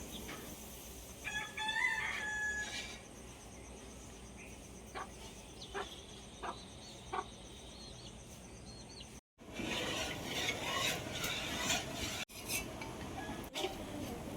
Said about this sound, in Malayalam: ഇതാ മുറ്റത്തേക്ക് വന്ന് നോക്കുമ്പോൾ അടുത്ത വീട്ടിലെ കോഴികളാണ് കേട്ടോ.